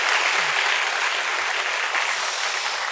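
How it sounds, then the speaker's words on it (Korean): A church congregation gives sustained applause in praise to God during an evening session of a world remnant conference, a dense, steady roar of many hands clapping at once with no voices over it. "우리 여호와 하나님께 찬양 박수를 드립시다."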